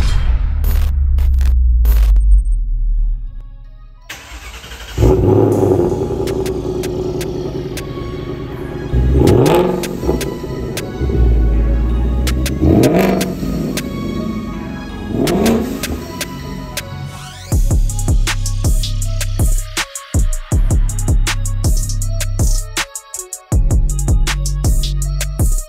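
A supercharged 2021 Ford Mustang Mach 1 engine roars loudly and is revved repeatedly in sharp surges over a steady idle.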